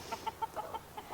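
Black backyard hens clucking in short, soft bursts, a handful of brief calls spaced through a second, fairly close with a light ambient hiss behind them.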